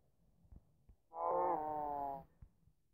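A single cow moo from Minecraft, a low, tonal call lasting about a second, set against quiet game background with a few soft thuds.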